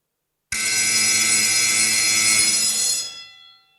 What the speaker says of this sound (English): I hope your alarm clock at home doesn't sound anything like that